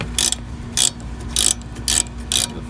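A ratchet wrench loosens the sway bar link nut on a Ford Escape, giving five evenly spaced bursts of rapid clicking, close and fairly loud, with a steady low hum between strokes and no talking.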